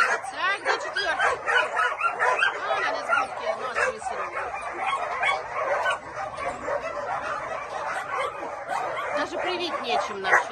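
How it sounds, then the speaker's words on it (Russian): Very small puppies yip, bark and whimper in a dense, continuous chorus at close range, with some human voices mixed in underneath. "Совсем маленькие щеночки."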